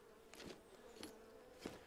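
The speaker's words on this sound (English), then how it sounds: "You're the buzzing. That's a bee nest." A faint, low buzzing of bees swells and fades in a few soft pulses from a bee nest in the survival video game Jaws of Extinction, with no talking over it.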